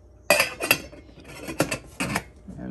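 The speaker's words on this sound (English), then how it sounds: "pick our top up." Several sharp metallic clanks and scrapes as the lid of a metal dripolator drip coffee pot is handled, four or five close, distinct clinks with brief pauses between.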